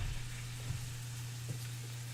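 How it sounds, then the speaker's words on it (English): Meat sizzles in a hot pan for a sear, a faint, steady crackling hiss over a low hum, with small pops now and then. "Always make sure that pan's hot when you're adding your meat so you get that nice sear"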